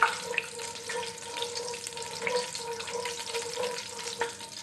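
Crushed cardamom pods frying in hot desi ghee for suji halwa, a soft steady sizzle with faint stirring scrapes and a low hum, no voices.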